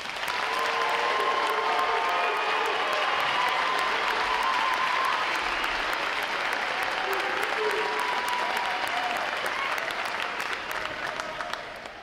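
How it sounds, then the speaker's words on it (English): A crowd at a U.S. Navy recruit training graduation ceremony applauds the graduating divisions, a broad, continuous wash of clapping held steady for several seconds before tapering off at the close. "Please join me in giving them and the six other outstanding graduating divisions a round of applause for outstanding performances."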